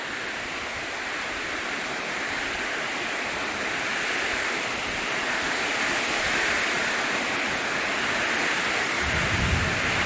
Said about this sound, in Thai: โอ้ลมฝนตกแรงมากฝนตกหนักเลยครับวันนี้